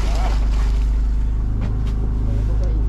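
A charter fishing boat's motor runs loud and steady with a throbbing low drone, wind and water rushing over it, and a voice briefly audible under the engine noise.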